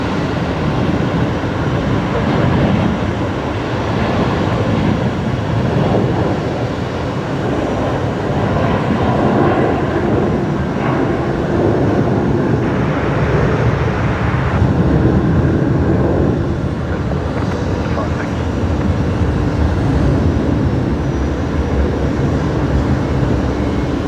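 An Atlas Air Boeing 747 arrives at Brisbane Airport, a loud, steady broadband jet roar that holds throughout with a slight swell midway and no voices.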